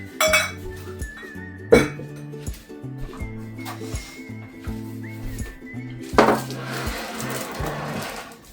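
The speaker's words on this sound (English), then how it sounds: "So I'm going to get my baking pan and start dipping these out into clusters." Metal baking pan handled for making Easter candy clusters, with two sharp clanks a few seconds apart and lighter clinks of kitchenware over soft background music.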